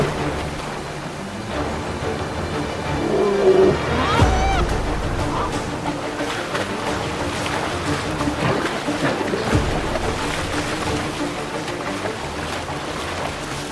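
Fast river rapids rush and churn steadily, a dense, broad roar of tumbling water that stays close and loud throughout.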